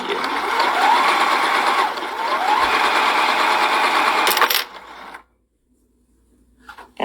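A sewing machine stitches a rolled hem in a fast steady whir for several seconds, stops abruptly, then falls silent apart from a faint rustle at the end.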